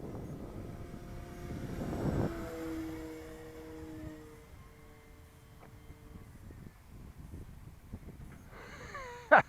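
An FMS PC-21 Pilatus RC model plane flies past with a steady whining electric drone that swells and fades, steady tonal whine lines sliding in pitch as it passes, ending with a brief louder clatter.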